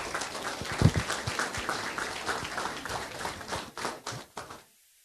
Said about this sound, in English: Round of applause to the parents.